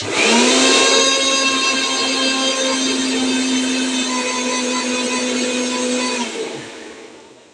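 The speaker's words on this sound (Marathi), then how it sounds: "त्याला बारीक करून तेच मिक्सरमध्ये." A mixer grinder blends spinach with a loud, steady, high-pitched motor whine that holds for about six seconds, then cuts off and winds down, with no talking.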